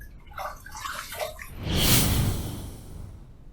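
Water splashes and rinses a freshly shaved face at a sink, a steady running wash swelling into a louder splashing rush before easing off.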